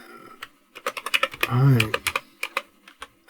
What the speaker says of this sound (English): Oh, what is the matter with my typing today?